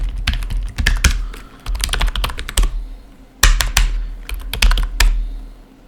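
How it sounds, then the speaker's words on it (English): Commands are typed by hand on a computer keyboard in bursts of rapid, loud key clicks separated by short pauses. "It helps a lot when we type commands. I mean, by hand on keyboard, we learn more."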